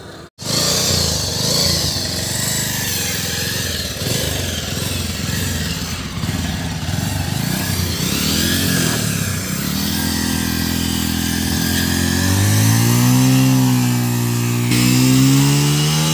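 A motorcycle engine straining in a tug-of-war against a car, droning loudly for a long stretch before revving hard with climbing pitch toward the end, with no talk over it.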